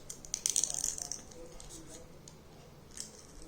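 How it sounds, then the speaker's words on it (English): Quiet snipping of scissors through paper, a quick cluster of crisp cuts followed by a few softer, scattered ones, close by. "Now with the help of scissors we will cut it."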